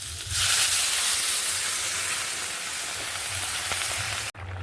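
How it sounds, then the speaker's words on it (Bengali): Water poured into a hot pan of potato and pointed gourd curry, a sudden loud hiss and sizzle that settles into a steady bubbling crackle, ending with a brief clunk. "পটল আলু ভালো করে কষাই হয়ে গেছে, এবার এর মধ্যে জল ঢেলে দেবো।"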